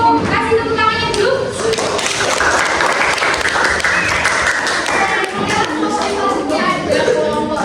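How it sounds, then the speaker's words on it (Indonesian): A classroom of students applauding after a group presentation, with dense sustained clapping from many hands lasting throughout, loud and close, with some voices mixed in. "Kasih tepuk tangannya dulu."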